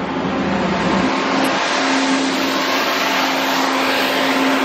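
A snow-sledding machine engine at a ski field runs with a loud, steady drone and a sustained tone, close by and continuous with no talk.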